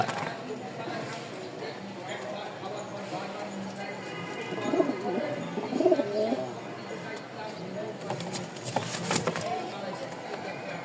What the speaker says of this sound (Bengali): কারণ প্রতিটা কবুতরই নতুন খাঁচায় আসলে তাদের ডাক হাক একটু কমায় দেয়